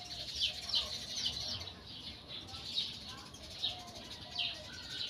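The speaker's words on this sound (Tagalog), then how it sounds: "Maraming ibon." Many birds chirp and twitter at a moderate distance among the lahar-buried church ruins at Cagsawa heritage park, repeated calls over a steady outdoor hiss with no clear talk.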